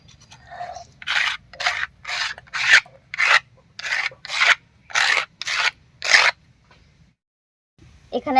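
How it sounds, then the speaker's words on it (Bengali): Spice paste is ground on a stone in about a dozen evenly spaced rasping strokes, each a loud, gritty scrape close by, followed by a pause and the start of another stroke, with no talking. "আবার সব কিছুর সঙ্গে আরেকবার বেটে নেব মশলাটা"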